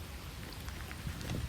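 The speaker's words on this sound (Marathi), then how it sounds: "आता पाऊस पण चालू झाला इथे." Rain starts falling outdoors, a faint soft patter and hiss of drops close by, steady for a brief moment with no talk.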